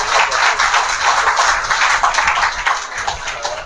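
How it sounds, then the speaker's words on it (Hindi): A church congregation at an Assemblies of God service claps together in dense, steady applause that holds for several seconds before easing slightly at the end. "आइए हम लोग ताली बजा के हम लोग"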